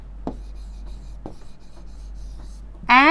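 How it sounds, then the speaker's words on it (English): Chalk or marker strokes scratch across a classroom board in a few short separate marks, close and fairly quiet, ending with a brief squeaky stroke. "We will write here away, or we can write ray."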